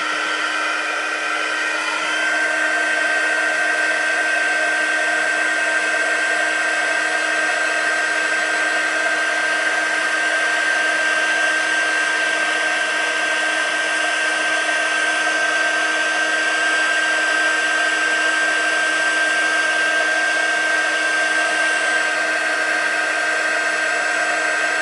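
A heat embossing tool blows hot air over a paper-crafting stamp design, a steady loud whirring hiss held unbroken for nearly half a minute.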